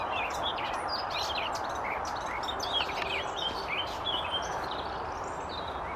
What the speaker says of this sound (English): There's 3 or 4 birds chasing each other around in here